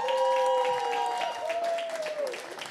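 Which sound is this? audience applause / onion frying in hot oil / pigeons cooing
audience applause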